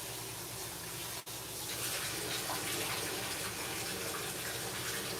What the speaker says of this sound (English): I'm just gonna rinse them off a little bit. I already did before, but I'm just gonna rinse them off again.